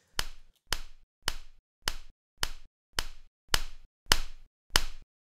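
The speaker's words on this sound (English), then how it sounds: "take out all these little clap sounds" Nine short, sharp hand claps spaced evenly about half a second apart, each crisp with a quick decaying tail, recorded close and isolated against silence.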